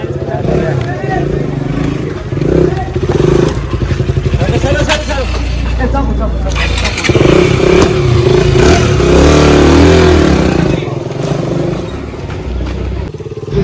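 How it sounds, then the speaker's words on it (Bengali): A KTM Duke motorcycle starts up and revs repeatedly nearby, its engine rising and falling loudly through a busy outdoor scene while several people talk and call out over it. "বাইক চালাইছে ডিউক"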